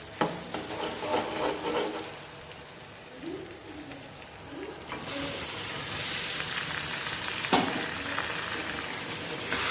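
Mutton pieces dropped into a pan of browned fried onions, raising a steady loud sizzle and hiss that swells after the meat goes in, with occasional stirring clinks.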